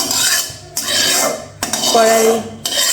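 A metal spatula stirs and scrapes oil around a heated kadai on medium-low heat, three rasping strokes with short pauses between them, close and loud.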